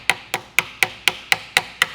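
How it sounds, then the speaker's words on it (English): Eight sharp metallic clangs of a Snap-on hammer striking metal while tearing down a Shovelhead chopper, evenly spaced in a steady rhythm, loud and close. "Using my hammer."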